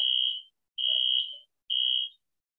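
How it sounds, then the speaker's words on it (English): A fire alarm going off outside sounds three long, steady high-pitched beeps separated by brief gaps, moderately loud and with nothing else behind it. "There's a fire alarm going off outside, so we might have to vacate early"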